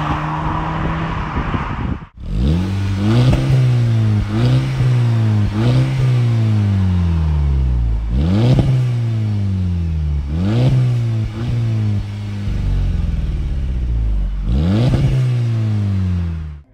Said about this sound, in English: For such a small car, it sounds beautiful